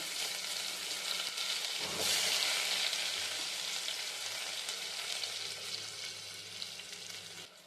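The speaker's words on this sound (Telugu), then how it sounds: "ఆనియన్స్ వేగిపోయినాయండి" Onions frying with spices in a pan for egg biryani, a steady close sizzle that swells briefly with a stir near the start, then settles into a soft, even hiss with no speech.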